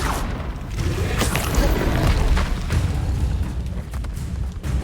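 The Confringo explosive spell from the Hogwarts Legacy video game bursts with a loud booming blast, followed by a rumbling crackle that slowly fades over a few seconds.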